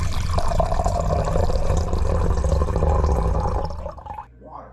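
Hurricane Ian's storm surge slams water onto the west coast of Florida, a loud, continuous roaring wash of surf and wind that holds steady and then drops away abruptly near the end.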